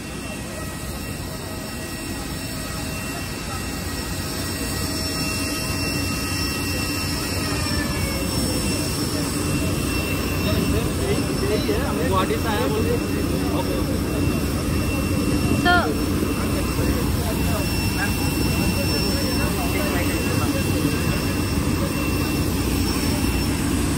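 Jet engine noise from an IndiGo international flight heard from inside the aircraft, a loud continuous roar with steady whining tones that persists throughout.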